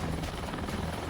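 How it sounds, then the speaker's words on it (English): A rescue helicopter descends to land at the Dove Lake car park, its rotors giving a steady, rather faint throbbing drone throughout. "At the Dove Lake car park, Chris helps Sandra out of the helicopter."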